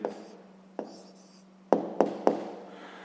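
A pen or chalk writes answers to a sixth-grade math exercise by hand in short, close strokes, with several sharp taps where the tip strikes the surface, over a steady low hum.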